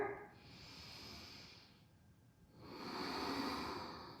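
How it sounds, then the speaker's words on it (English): Slow, deep breaths during a beginner yoga session: a long airy inhale, a quiet pause, then a long exhale, close and soft with no talk. "lengthen the breath in, lengthen the breath out"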